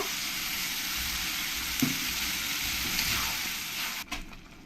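Pointed gourd (parwal) with spice paste fries in a pan for a yogurt-based curry, giving a steady, close, loud sizzle throughout. A few brief clatters occur around the middle and near the end.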